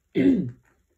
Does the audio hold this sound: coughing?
yes